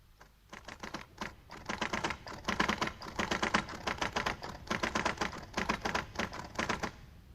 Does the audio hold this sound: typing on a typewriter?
yes